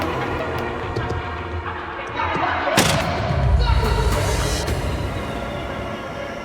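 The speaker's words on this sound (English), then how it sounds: "it ends with gunfire" Gunfire sound effect in a crime documentary reenactment of a confrontation, heard as a sharp, loud crack followed by a rumbling echo over a busy, noisy ambient background.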